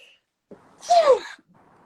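A single sharp sneeze bursts out close by, a quick intake followed by an explosive, slightly voiced release, with quiet on either side.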